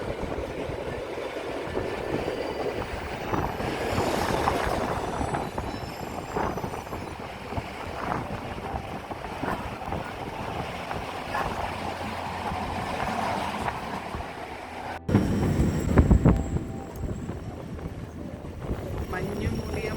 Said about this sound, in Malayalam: ഇത് 122 കിലോമീറ്റേഴ്സ് ഉള്ള ട്രെയിൻ യാത്രയാണ്.